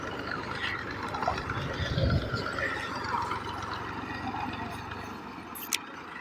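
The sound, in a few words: tractor driving through water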